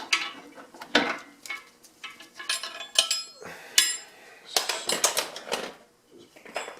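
Metal brake backing plate being fitted onto a drop spindle on a 1966 Volkswagen Beetle; scattered close clinks, clanks and scraping of metal parts handled and positioned, fairly quiet, with no clear talk.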